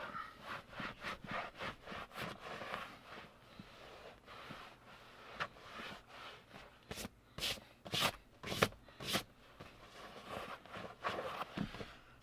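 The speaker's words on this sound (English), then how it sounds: "now I'm just going to wipe it off with one of these microfibers" A microfiber cloth wipes foamed leather cleaner off a leather car seat in a Lexus GX470 with soft, irregular rubbing strokes, quiet and close, quickening toward the middle.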